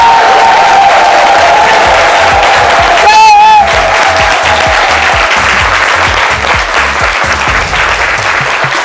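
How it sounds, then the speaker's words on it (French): A French-language live TV studio audience applauds warmly as a guest arrives, a dense, loud, sustained round of clapping lasting several seconds with faint cheering mixed in. "Et nous recevons notre invité, toujours avec l'effervescence de nos applaudissements"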